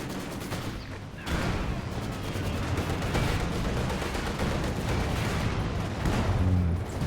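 Dense artillery barrage and gunfire in a World War strategy game, a continuous rumbling mass of blasts and shots after a brief quieter start, loud and without speech.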